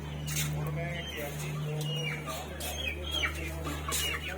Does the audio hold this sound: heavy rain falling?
no